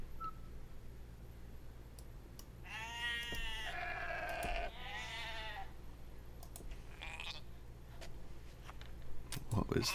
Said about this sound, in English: What was that sound, sheep?